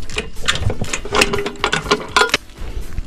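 Ratchet with a 5/8 deep socket loosening the spark plug on a Kohler 12RESV generator, a run of rapid close clicks in uneven bursts over a few seconds, with no talk.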